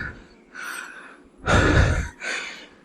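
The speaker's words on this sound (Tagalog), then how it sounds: "Medyo hinihingal lang ako ng konti." A man breathes heavily after walking around a farm property in Alfonso, Cavite, giving several loud, close gasping breaths and exhales with no speech.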